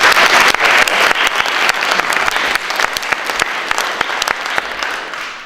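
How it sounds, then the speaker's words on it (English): Children and adults in a town hall applaud a fourth-place outdoor activities entry at a children's parliament, steady crowd clapping throughout with sharp individual claps standing out, loud and close, gradually easing toward the end. "Can I have a round of applause for those who"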